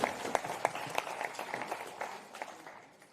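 An arena crowd at a powerchair football European Championship final claps for the team managers, scattered distinct claps that merge into moderate applause before tapering off.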